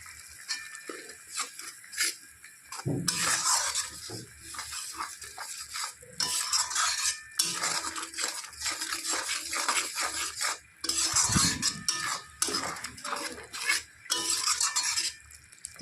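Banana flower sautéed with turmeric and chili powder in a pan, with irregular scraping and clinking of a spoon stirring against metal cookware in bursts, close and fairly loud, with no talking.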